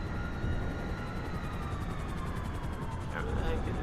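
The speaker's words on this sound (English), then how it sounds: "spin around, find this helicopter." A video game helicopter drones as a steady, rumbling rotor hum with a faint rising whine, moderately loud and continuous throughout.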